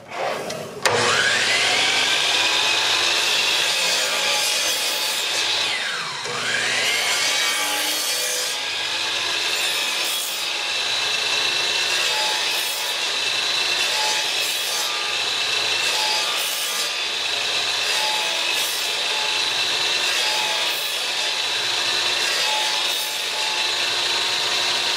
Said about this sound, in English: make sure the blade is at full depth where I'm actually cutting